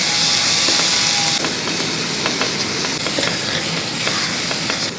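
Chopped onion and green chilli sauté in a pan for an egg lollipop recipe, a loud, dense, continuous sizzle close by with repeated scraping strokes of stirring running through it.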